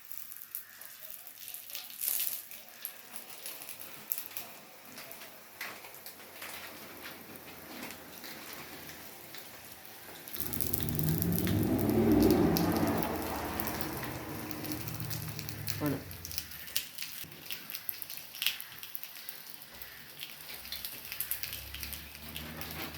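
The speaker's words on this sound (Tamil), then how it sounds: "இந்த ரொட்டியை வந்து நாங்கள் இதோட போட்டு எடுக்க போகிறோம்" Potato roti fries in oil in a pan, giving a soft sizzle that swells to a louder, steady hiss for several seconds before settling back into faint crackling.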